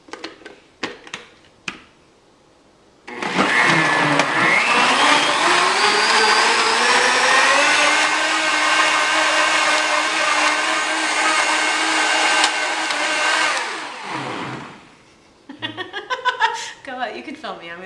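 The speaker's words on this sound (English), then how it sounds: "Put the lid on and blend." A Blendtec blender whirs loudly and steadily for about ten seconds, blending a coffee-substitute tonic, rising slightly in pitch before it stops, with brief talk and laughter before and after.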